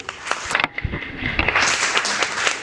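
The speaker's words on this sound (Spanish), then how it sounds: "me gustaría que le diéramos un fuerte aplauso a los ponentes" Audience applause for the speakers at a panel discussion on cigarette and vaping consumption: a dense patter of clapping from many hands that builds after a moment and carries on steadily.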